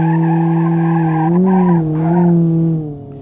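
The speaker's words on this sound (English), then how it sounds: "Nice smoky burnout." Bruckell LeGran 2.5 S in the BeamNG.drive video game doing a smoky burnout: a loud sustained tire squeal over the engine's droning tone, wavering in pitch before fading near the end.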